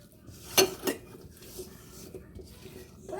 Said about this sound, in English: You just want to mix these until the wet and the dry ingredients have combined.